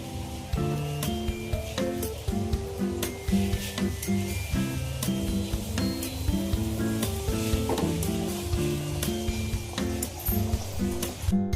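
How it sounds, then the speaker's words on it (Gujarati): Samosas deep frying in hot oil give a steady, close bubbling sizzle with small crackles throughout, playing under background music. "પહેલા એક થઈ જાય પછી 2-3 તમે નાખીને તળો."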